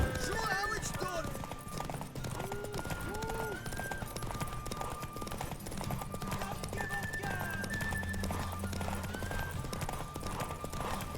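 A horse in The Witcher 3: Wild Hunt Complete Edition gallops with steady rhythmic clip-clop hoofbeats and a neigh, mixed with game combat noise and music, while voices talk over it.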